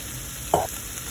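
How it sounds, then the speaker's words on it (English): Sliced mushrooms hit a hot pan during a vegan quinoa stir fry, giving one short, moderately loud sizzling burst that fades after a moment, with no talk. "start adding in the mushrooms"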